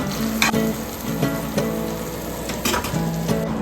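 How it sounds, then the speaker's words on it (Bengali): Eggplant pieces frying in hot oil in a home kitchen, a loud, close, continuous sizzle with a few sharp spatters and utensil clinks scattered through, no voices. "এখানে দিয়ে দিচ্ছি বেগুন বেগুনগুলো ভালো করে ভেজে"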